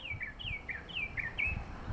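A bird sings outdoors in a repeating series of bright, descending chirping phrases, about six in quick succession, fairly clear over a soft background hum.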